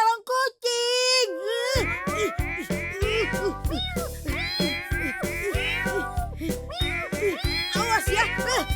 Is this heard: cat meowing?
yes